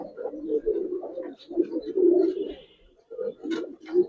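Giribaz pigeons coo in a series of soft, rolling, throaty calls, close by, with brief pauses between the phrases and a few faint chirps, and no talking.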